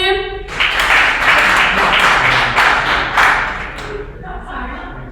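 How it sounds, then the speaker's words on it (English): An audience at a university music master class claps for a performer, a full, even round of applause that swells after a brief spoken word and fades into quieter talk. "can we clap for him?"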